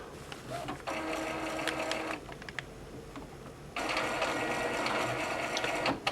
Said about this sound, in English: I'm going to send the printer through a cleaning cycle now